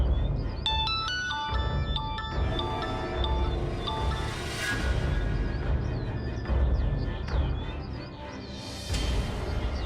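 A phone rings during a call inside a noisy Hindi TV serial household scene, a repeating electronic ringtone melody playing over a dense, loud background wash.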